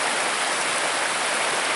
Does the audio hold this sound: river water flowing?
yes